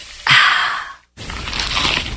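A crunchy, cheesy pizza slice is bitten close up, giving a loud crackling crunch, a brief pause, then more chewing crunch.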